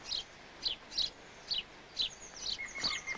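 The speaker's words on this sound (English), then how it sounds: "Tree sparrows lodge in the eagle's bulky nest." Tree sparrows chirping at an eagle's bulky nest, giving a steady run of sharp, high chirps about every half second, fairly close and clear over a faint background, with a thin high whistle joining near the end.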